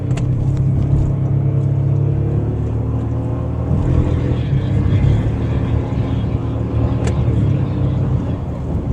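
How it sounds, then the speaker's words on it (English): A 2024 Toyota Tacoma TRD Off-Road's engine and exhaust hum steadily while accelerating onto a highway, a low, even drone with road noise heard from inside the cab. "you guys can hear this engine and exhaust and whatever else is making noise on this truck"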